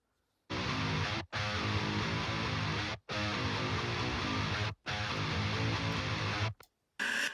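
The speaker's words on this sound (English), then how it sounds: "And all three pairs of guitars together sound like that." Three pairs of electric guitars riff together in a thick, loud wall of sound, playing in several long sections separated by short abrupt stops.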